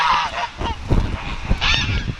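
Close, loud honking from a duck in a parking lot, several harsh goose-like calls following one another in quick succession, with no voices over them.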